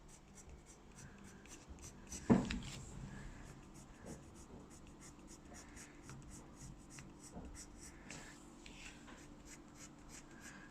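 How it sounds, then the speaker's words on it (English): Colour pencil scratching and shading across paper for an Impressionist-style eye drawing, a steady close rasping scribble with a sharper stroke near the start and no talking. "So the Impressionists would do this with a paintbrush. We're doing it with colour pencil."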